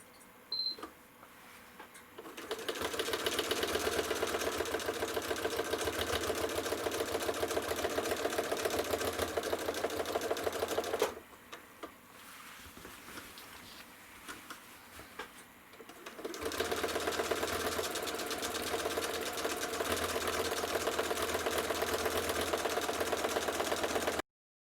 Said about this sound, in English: I am going to follow along and stitch this spiral